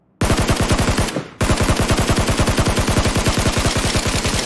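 Rapid automatic gunfire in a video game, loud and continuous bursts of evenly spaced shots with a brief pause near the start before the firing resumes.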